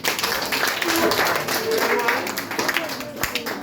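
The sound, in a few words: audience clapping for students at a primary school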